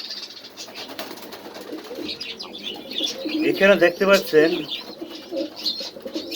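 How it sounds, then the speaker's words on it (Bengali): Iceberg Nila Hyderabadi pigeons coo and chirp at a pigeon farm in Mirpur, Dhaka, with a rising cluster of close, throaty coos midway. Someone talks over the birds. "নীলা কবুতর, এটা আইসবার নীলা হায়দ্রাবাদি।"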